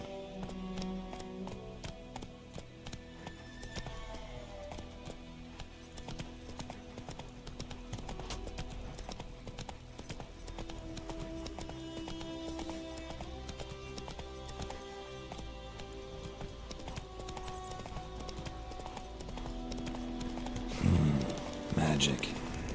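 Hooves of the horse Roach clip-clopping at a steady trot in The Witcher 3, running beneath music and game speech, with a louder burst near the end.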